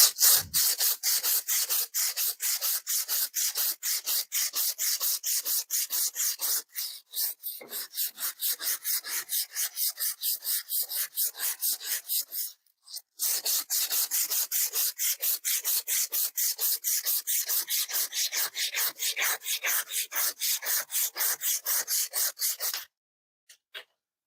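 Rapid, steady rasping strokes of rust being scrubbed off tractor pins, loud and close, running almost continuously with two brief pauses and no talk.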